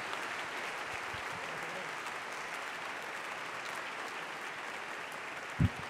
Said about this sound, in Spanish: Así que les pido un aplauso